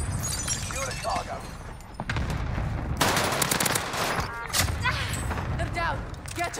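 Automatic gunfire in Call of Duty on Rebirth Island comes in rapid bursts, loud and close, along with shattering impacts and thuds while voices talk over the shooting.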